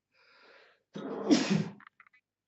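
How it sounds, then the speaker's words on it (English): A single close, loud sneeze with a short inhaled buildup before it, followed by a few faint sniffs. "I'm going to sneeze again."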